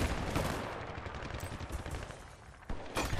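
Machine gun fire in the video game Battlefield: Bad Company 2, loud rapid bursts of gunshots that run almost continuously with a few sharper individual cracks near the end.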